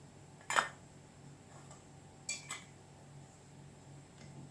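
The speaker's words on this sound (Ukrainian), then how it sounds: "накриваємо кришками." Two short metallic clinks, a few seconds apart, like lids set onto glass jars, against quiet room hum.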